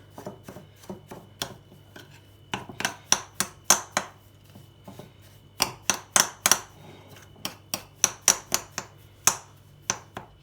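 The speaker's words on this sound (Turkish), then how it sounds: "Güzelce karıştırıyoruz." Crushed biscuits are stirred with melted butter in a bowl, giving a series of close, sharp clicks and knocks of utensil against dish in uneven bursts.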